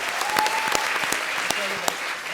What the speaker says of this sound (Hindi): तो एक बार डेविड धवन के लिए जोरदार तालियां